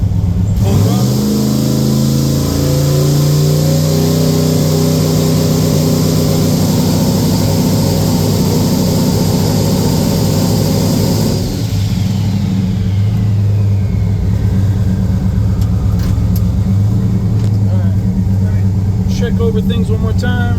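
A GMC OBS pickup with a big turbo engine held on a transbrake roars at full throttle, loud and sustained, then eases to a lower rumbling idle with brief revs.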